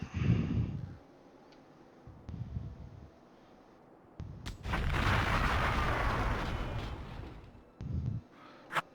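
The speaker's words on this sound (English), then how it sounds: "Damn, that must have been one powerful ammunition explosion." A tank's ammunition detonating in a snowy World War II-style tank combat game: a sustained, loud, roaring blast rumbling for several seconds, framed by shorter booming thuds before and after, with no talking.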